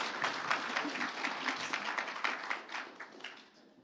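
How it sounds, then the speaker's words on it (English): Audience applause for sponsors and partners at a startup pitch night investment summit, a full, even burst of many people clapping that gradually tapers off toward the end. "let's give our sponsors and partners a round of applause"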